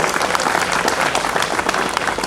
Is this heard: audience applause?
yes